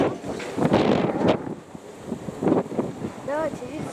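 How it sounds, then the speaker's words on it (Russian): Strong wind buffets the microphone outdoors during a pigeon training session, with loud broadband gusts surging and easing throughout, a few bird-like chirps near the end and some faint background voices. "Соглашусь, что сейчас ветер."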